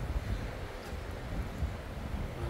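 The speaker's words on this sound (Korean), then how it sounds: "바람 세다" Strong wind buffeting a microphone at night on a mountain, a dense, steady low roar with gusting swells and no talk.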